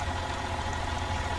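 Truck engine idling in American Truck Simulator: a steady low rumble, even and continuous, with no other sounds over it.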